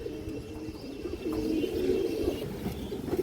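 A pair of Kajla pigeons coo softly and faintly, a low repeated throaty murmur.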